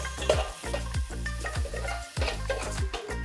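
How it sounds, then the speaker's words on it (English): Sliced onions for biryani sauté in a pan, a steady sizzle broken by rhythmic scraping stirs about every half second, close and alone. "there is no need to fry the onions till they are golden, but till they are just soft and translucent"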